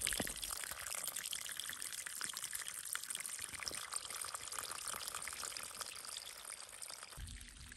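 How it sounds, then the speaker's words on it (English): Snowmelt runoff water trickles and splashes steadily on a mountain ridge during an elk hunt, a close, continuous gurgling pour with no voices. "we were able to collect some runoff snowmelt for water"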